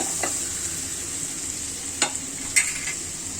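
Spices for a rohu fish curry fry in a pan with a constant hiss, broken by two or three sharp scrapes of a spoon stirring them.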